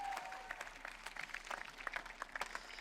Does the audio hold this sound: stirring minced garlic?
no